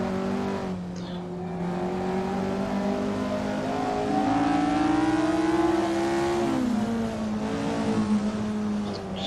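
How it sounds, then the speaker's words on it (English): A race car engine in the Assetto Corsa sim racing game holds a sustained, loud drone in 5th gear under hard throttle, with its pitch rising steadily before easing off near the end. "Hard on the throttle, still keeping it in 5th gear."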